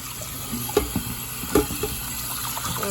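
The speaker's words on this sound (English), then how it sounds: "Rinse it off about 100 times, give or take, and then it's clean enough for me." Oxtail meat rinsed under running tap water, a steady close-up splash and flow of water with a couple of louder sloshes as the meat is handled.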